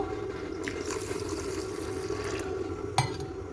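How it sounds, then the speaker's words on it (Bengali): Gobindobhog rice being washed by hand in a bowl of water, a close steady swishing and sloshing of water with a small clink near the end, no talking. "প্রথমেই গোবিন্দভোগ চালটাকে খুব ভালো করে ধুয়ে নেব"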